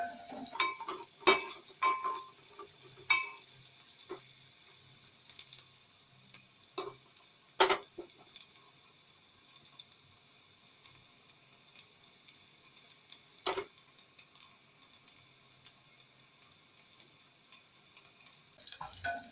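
Browning food stirred in a frying pan: a steady, soft sizzle with intermittent sharp clicks and scrapes of the utensil against the pan, close up and without talking.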